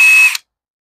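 A Ronix 8670 cordless drill whirs at close range with a steady high-pitched motor whine while the chuck is opened, then spins down and cuts off abruptly after less than half a second.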